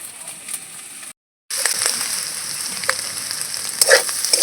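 Roti pieces fry in a pan with a close, steady sizzle, broken by a brief silent gap, then stirred with soft scraping and crackling pops.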